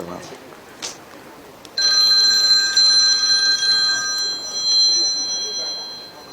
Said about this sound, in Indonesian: Handphone saya, ya Allah.